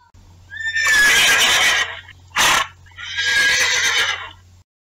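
A horse neighs loudly nearby in two long whinnies with a short snort between them, set against a faint low hum.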